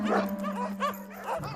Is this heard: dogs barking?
yes